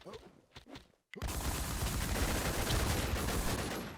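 Shooting video game gunfire: after a brief quiet pause, a loud continuous barrage of rapid shots erupts and rattles on without letup to the end.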